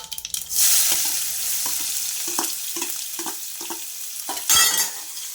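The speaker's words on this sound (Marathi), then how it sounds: "त्यामध्ये टाकणार आहे आता कांदा." Onion dropped into hot oil with cumin and mustard seeds sets off a loud sizzle. A burst of frying hiss is followed by steady crackling, with scattered stirring clicks and a second surge near the end.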